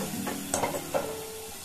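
Boondi frying in hot oil, a soft continuous sizzle with a few brief scraping stirs of a spoon or slotted ladle, heard close and quiet with no talking.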